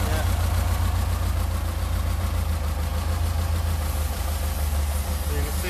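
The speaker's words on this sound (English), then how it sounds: "He's adjusting the idle there." A four-cylinder engine with twin Weber/Dellorto DCOE/DHLA carburettors idles steadily nearby, a loud, even low-pitched throb with a rapid pulsing beat, while someone talks over it.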